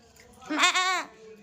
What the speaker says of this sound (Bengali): এই দেখো সেই বাচ্চা ছাগলগুলো এর মধ্যে ডাকছে